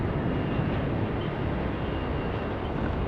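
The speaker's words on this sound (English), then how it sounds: "Say goodbye to Malaysian Airlines. It's going to be off to KL." Malaysian Airlines airliner departing Sydney Airport at night, a steady broad engine roar that holds evenly loud throughout with no voices over it.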